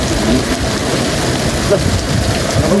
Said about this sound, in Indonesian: Hujan di sini bocor.